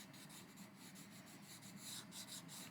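Derwent coloured pencil scribbling hard across paper in quick back-and-forth strokes, a steady close scratchy rasp that continues without pause.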